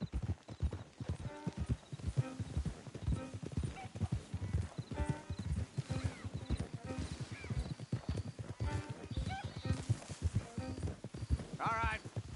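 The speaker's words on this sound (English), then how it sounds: "Don't want the horses clopping around outside the window" Horses' hooves clop steadily on the ground in Red Dead Redemption 2, a dense, rhythmic patter of several animals throughout, with occasional whinnies and snorts mixed in.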